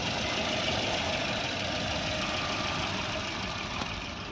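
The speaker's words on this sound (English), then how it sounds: "That ticking is just the valve clicking." A Volvo 240 wagon engine idles steadily with a constant low rumble and a faint, even valve tick running through it, close and alone with no voices.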